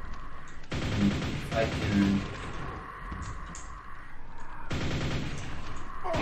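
Grenade blasts in Quake come as two heavy bursts of booming noise separated by a few seconds of lower game rumble, with someone speaking briefly over the action.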